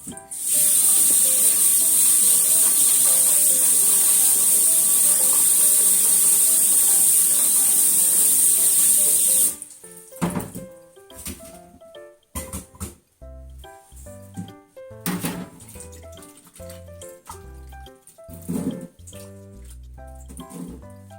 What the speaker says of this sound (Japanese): で、洗いますね、茎の方。